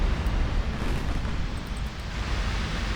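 Naval gunfire from 18-inch battleship guns in the Ultimate Admiral Dreadnoughts game, a sustained deep rumbling roar of broadband noise filling the whole stretch, loud and steady without distinct separate blasts.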